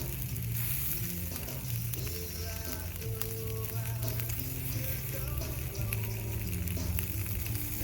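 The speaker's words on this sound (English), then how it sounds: "Let that start frying up." Polenta sizzles and crackles steadily in a hot pan on a fire grill, a continuous frying hiss with occasional pops and a low hum underneath.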